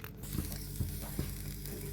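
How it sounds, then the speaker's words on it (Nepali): Ginger roasting with salt in a pan over a very low flame gives a steady soft sizzle, broken by a few light scrapes of stirring about every half second, close up with no voices. "अदुवालाई एकदमै सानो आगोमा यसरी नुन हालेर यसरी भुट्नु होला"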